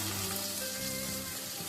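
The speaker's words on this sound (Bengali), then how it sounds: "এবার আমি কপিগুলো ভেজে নেবো লাল লাল করে।" Cauliflower pieces frying in oil over a lowered gas flame, a steady soft sizzle and crackle running continuously, fairly quiet and close, with no voices.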